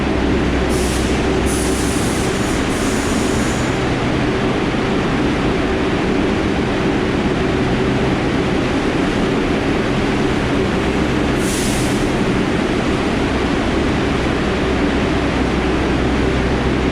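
Steady rumbling drone of a New York subway shuttle train running near Times Square, with a constant low hum and broadband rail noise throughout, plus a couple of brief high squeal-like hisses; no talking.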